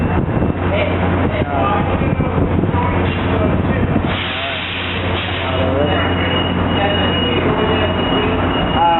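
Tri-Rail commuter train P678 rolls past loudly and close, its wheels squealing in long high-pitched screeches over a heavy rumbling roar that continues throughout, with a voice briefly audible underneath.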